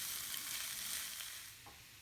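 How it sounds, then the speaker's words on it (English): Chopped leek frying in a pan for shrimp chili (ebi chili), a steady, soft hiss of sizzling oil with faint stirring, close and continuous with no talking. "Leek cooks very quickly too, so you just cook about a minute to 2 minutes"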